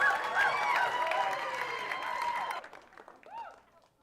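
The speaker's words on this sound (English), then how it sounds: "A big round of applause for Elizabeth Vaughn." Audience applause at an IgniteATX talk event, a dense steady clapping crowd mixed with cheers and voices for about two and a half seconds, then dropping away to quieter room sound and a few scattered voices.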